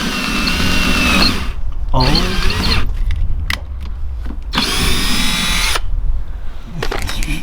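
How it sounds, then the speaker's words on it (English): A power drill with a dull bit bores through a small carbon fiber piece and into a Subaru WRX's bumper, whining loudly in several bursts separated by brief pauses, with a short exclamation from a person. "drill through the carbon fiber little piece and the bumper"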